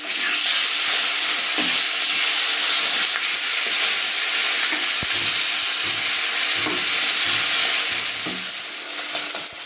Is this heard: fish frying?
yes